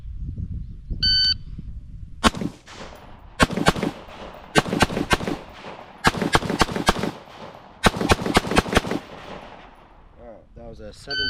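Gunfire from an IWI Tavor X95 rifle at a shooting range, about ten loud sharp shots in quick clusters with short gaps between groups, plus a few faint electronic beeps.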